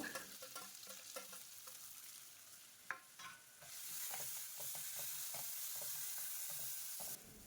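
Grated raw mango stirred in a hot pan, a soft steady sizzle with repeated spatula scrapes and taps, one sharp knock partway through.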